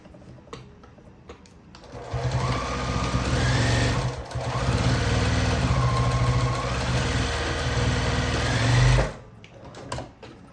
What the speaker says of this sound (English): I'm just going to stitch that down